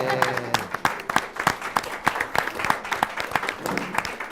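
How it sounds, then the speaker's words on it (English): Sparse, uneven clapping from a small audience at a school committee meeting as cheerleaders come up to the podium, distinct individual claps in an irregular rhythm with a little background talk. "We'll clap for you on your way up and on your way down."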